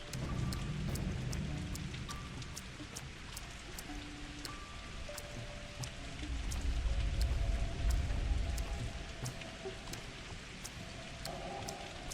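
Steady rain falls in the video game Pathologic 2, a constant wash of patter with a low rumble swelling midway and faint tonal game sounds, with no talk.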